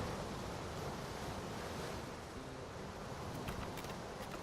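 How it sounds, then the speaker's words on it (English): Constant wind and rushing river ambience from a video game, a loud, unbroken wash of noise with no voices over it. "I love perpetual wind and river noises"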